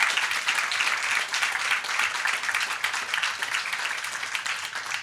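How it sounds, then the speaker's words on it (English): An audience claps steadily and warmly for about five seconds at a discussion festival stage event, thanking a colleague who served eight years, with a dense, continuous applause texture and no one speaking. "now we will deliver another applause of thank you to Helen, who has served 8 years here"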